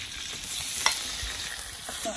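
Meat frying in hot oil in a wok in a rural home kitchen, a steady close sizzle with faint stirring scrapes and one brief clink partway through, and no talk.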